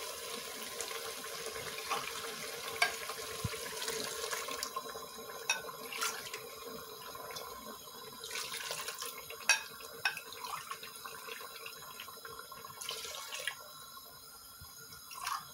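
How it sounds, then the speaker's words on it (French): Water running from a kitchen tap into a pot for cooking rice with meat, a steady faint splashing stream with a few louder spatters, continuing for over fifteen seconds without talk. "Et je vais mettre de l'eau."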